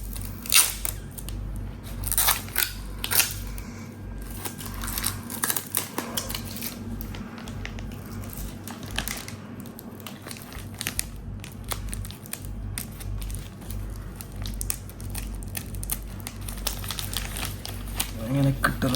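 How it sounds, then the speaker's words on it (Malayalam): Crinkling plastic and paper packaging is torn and crumpled while unboxing a handline fishing reel, with irregular sharp rustles and crackles close by, under occasional talk. "നമുക്ക് ഇതൊന്ന് അൺബോക്സ് ചെയ്ത് നോക്കാം."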